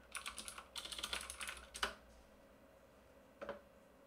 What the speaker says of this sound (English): my typing is messy today